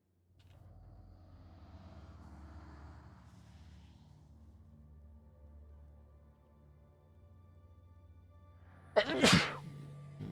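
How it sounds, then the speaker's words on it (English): A single sharp, loud human sneeze bursts out near the end after a stretch of quiet low background hum. "I seem to have sneezed."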